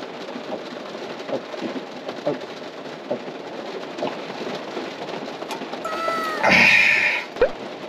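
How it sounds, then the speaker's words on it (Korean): Heavy rain drums steadily on a parked car during a rainy car-camping night at a park, a dense continuous patter with a brief louder burst near the end; no one speaks. "비 많이 옵니다 지금."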